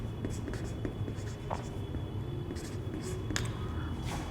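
A marker or chalk scratches across a board during a Class 11 physics lesson on circular motion, as a definition is written out. The strokes are steady and scratchy, over a constant room hiss, with no clear speech.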